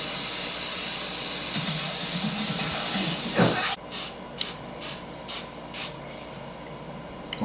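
Cooking spray hissing onto raw chicken pieces: a long steady spray, then a pause and five quick, evenly spaced short bursts, close and clear.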